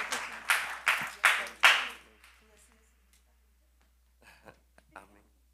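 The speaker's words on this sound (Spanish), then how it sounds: "Le damos una ofrenda de palmas al Rey que vive." A church congregation claps in several loud, rhythmic bursts, then the applause fades into scattered light claps and quiet murmuring.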